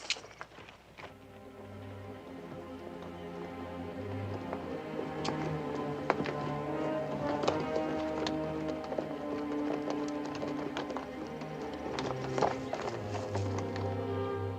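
Hooves clip-clop in an uneven, continuous rhythm at moderate distance, with an occasional snort and faint rustling around them.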